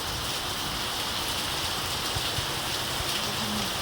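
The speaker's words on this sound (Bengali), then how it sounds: "কি বৃষ্টিটা হচ্ছে" Heavy rain pouring continuously in a dense, steady hiss, with occasional louder drops landing nearby.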